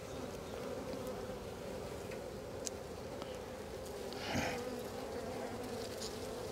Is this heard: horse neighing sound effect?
no